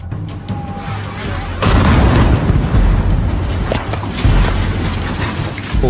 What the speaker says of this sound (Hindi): कुछ ही सेकंडों में रेशित्सा में एक सैन्य छावनी पूरी तरह से नष्ट हो जाती है।